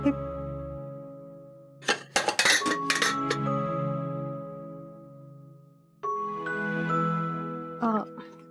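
Pots and metal dishes clink and clatter in a home kitchen while a pressure cooker is being set up, two bursts of ringing metallic knocks with a quiet gap between, and speech running alongside.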